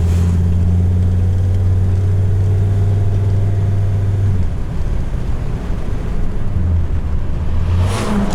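A 1947 Cadillac sedan engine hums steadily while driving, a loud low drone from inside the car with a rising whir toward the end and no speech.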